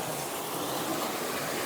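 Waterfall and stream in Strathconon, a continuous rushing hiss of falling water, fairly soft and steady, with no voices.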